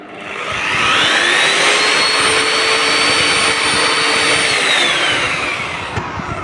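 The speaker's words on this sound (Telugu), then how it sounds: "ఇప్పుడు మిషన్ స్టార్ట్ చేద్దాం." A wall sanding and papering machine starts up with a rising whine, settles into a steady loud motorized drone, then begins winding down near the end.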